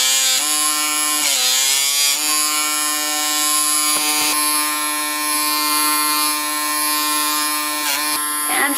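A PMD microdermabrasion device runs with suction on skin, giving a close, steady electric buzz whose pitch dips briefly as it presses and glides, continuous throughout.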